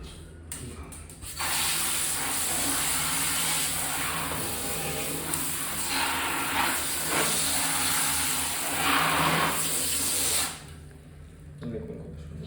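Water runs steadily as a piece of driftwood is washed for an indoor guppy pond setup. The flow is close and continuous for about nine seconds, then stops abruptly.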